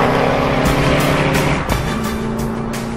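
A Koenigsegg Agera hypercar's engine roars loud and close, a dense sustained drone with rising revs and quick gear-shift dips, nothing else heard.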